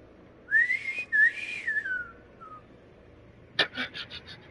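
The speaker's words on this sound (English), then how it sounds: "Learn to whistle properly, Scooter." A character in the Tales from the Borderlands video game whistles a wavering, sliding tune, then several short sharp whistle blasts follow after a pause, close and clear against a quiet background.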